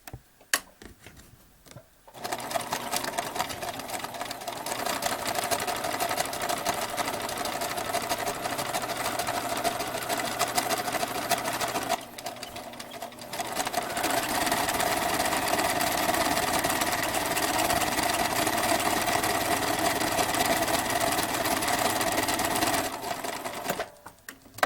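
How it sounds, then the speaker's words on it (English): Sewing machine stitching down the binding on a quilt, a steady close mechanical whir running almost continuously with a brief pause partway through and stops at the start and end. "we're just going to take it in this machine and sew that down where we left off"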